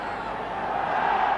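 A football stadium crowd cheering, a steady broad roar that swells slightly toward the end, with no pauses.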